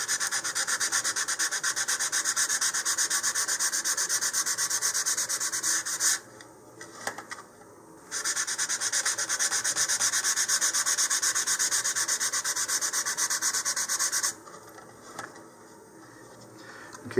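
Sandpaper rubs steadily against a cardboard model rocket body tube for a VK-7 Viking kit, roughening its surface with a continuous close scratchy hiss that stops briefly twice before resuming.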